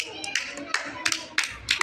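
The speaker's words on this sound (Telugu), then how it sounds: "క్లాప్స్." Pre-primary schoolchildren at circle time clapping, a quick irregular run of light claps close by, with a voice and talk in between.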